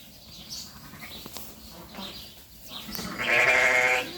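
A sheep bleats on a farm, one drawn-out, wavering cry near the end, preceded by quieter animal and background sounds, fairly close and with no talking.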